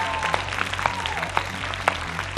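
Scattered applause from the audience at a university pleading contest as the finalists are announced, with sparse individual claps standing out over a low hum in a large hall.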